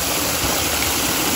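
A loud, steady roar of rushing water from a nearby waterfall in Bournemouth, a constant wash of sound with no voices.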